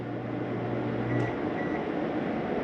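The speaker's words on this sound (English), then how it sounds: "We got a self-explanatory microwave. Okay, that working." Steady low electrical hum with a constant drone from a microwave running inside a 2016 XLR Nitro toy hauler RV, with a faint brief tone partway through.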